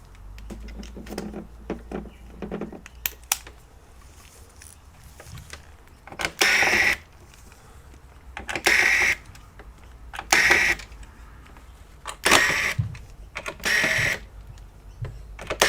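Screws come out of the lidar unit of a Xiaomi Roborock S50/S51/S55 robot vacuum, heard as five short, evenly spaced whirring bursts, preceded by faint clicks and handling taps.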